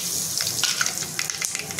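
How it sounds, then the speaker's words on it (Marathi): Mustard seeds, cumin and asafoetida sizzle and crackle in hot oil for chole masala, a steady close fry with scattered pops and no talking. "तेल गरम झालेलं आहे। मोहरी टाकून घेते आणि जिरं"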